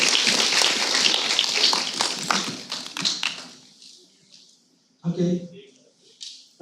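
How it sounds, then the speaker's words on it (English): A round of applause from an annual day audience, clapping dense and loud at first, then thinning into scattered claps and dying away, with a brief burst of voices near the end. "Let's give a big round of applause"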